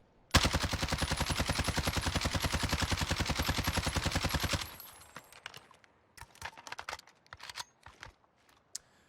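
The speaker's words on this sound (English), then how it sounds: "I'm going to try to control the recoil." A CR-56 AMAX assault rifle in Warzone fires one long, loud, rapid automatic burst of about four seconds, followed by scattered clicks and rattles.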